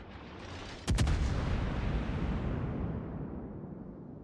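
A single heavy naval gun salvo booms from a cruiser in World of Warships, with a sharp double crack followed by a long, deep rumbling roll that slowly fades.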